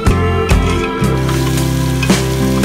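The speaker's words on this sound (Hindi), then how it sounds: "1/2 कप ऑयल लिया है, प्याज डाल के फ्राई करेंगे" Onions frying in half a cup of hot oil for an aloo gosht curry give a loud, steady, close sizzle with brief stirring bumps, and no voices over it.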